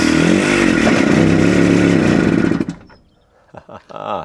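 A long-parked Italian micro van's small engine runs loud and rough for a few seconds, then cuts out, followed by a couple of brief sputtering attempts to catch again up close.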